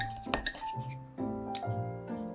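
A spoon clinks against a ceramic mug while stirring a cracked egg with chicken stock powder, yuzu pepper, sesame seeds and sesame oil, giving a few quick bright taps and scrapes close up.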